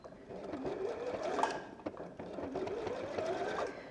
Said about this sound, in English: what you can do is sew down the back seam with a normal seam allowance